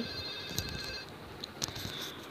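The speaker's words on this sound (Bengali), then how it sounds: "আর আসলে তানজিলের ফোনে বারবার ফোন আসতেছিল" A mobile phone rings at home, a faint, thin electronic tone lasting about a second amid soft room noise and scattered small knocks.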